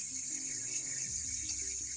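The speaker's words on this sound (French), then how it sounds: "bien réallumer le robinet et on va voir si déjà ça va permettre de le remplir" A water tap runs steadily to refill a toilet cistern, a continuous hissing flow with a slight shift in tone partway through, close and alone.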